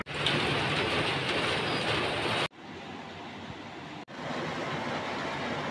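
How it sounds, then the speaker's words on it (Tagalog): Heavy rain falls outside as a dense, steady wash of noise, cut off abruptly twice and resuming each time, with no talking. "Lakas ng ulan sa labas."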